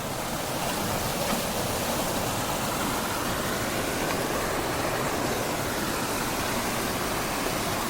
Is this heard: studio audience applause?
no